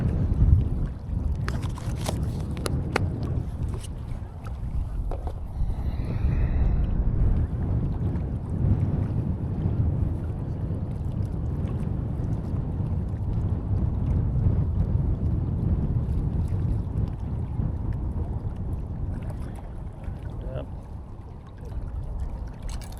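Strong wind blows across a local pond in Colorado, making a steady, loud low roar and buffeting that lasts the whole time with little change.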